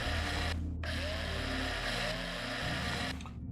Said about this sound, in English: Oh, did I break my drill?